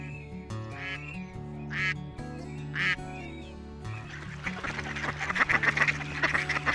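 Wild ducks, among them wigeon, teal, shoveler and mallard, quack several times in loud, separate bursts. A busier, rustling chorus of waterfowl follows. No one speaks.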